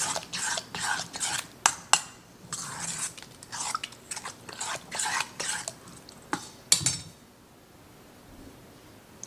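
A pineapple casserole mixture with chicken being stirred in a bowl, with a run of wet, sticky scraping strokes and light clinks of a utensil, close up and ending in near silence.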